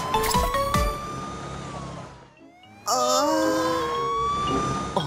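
Cartoon ambulance siren from a children's hospital-play episode: loud wailing tones with a short drop near the middle, then the siren returns strongly, sweeping and close, with no talk.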